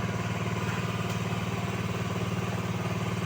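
A motorcycle engine idles nearby at an outdoor spot, a steady low pulsing chug that holds even and unbroken from start to finish.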